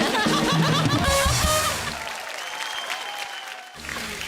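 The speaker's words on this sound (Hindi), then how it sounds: "तालियां।" Studio audience clapping on a comedy talk show, a loud, dense burst of applause with a musical sting mixed in, then thinning to lighter clapping and chatter.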